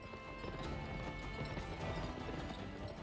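Horse hooves clip-clopping in the video game GUN, a steady galloping rhythm of muffled thuds under a dense, noisy game soundscape, fairly faint and continuous for a few seconds.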